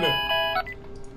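A phone rings with an incoming call: a short electronic tone chime of bright stepped beeps, close and clear, fading after about half a second.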